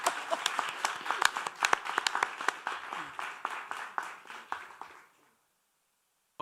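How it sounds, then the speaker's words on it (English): A conference audience claps in a lively round of individual claps that starts dense. It thins out over several seconds, fades to silence near the end, and is followed by a brief sound right at the close. "please give me applause."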